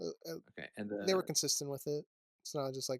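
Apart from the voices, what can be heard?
No everyday noise stands out behind the speech.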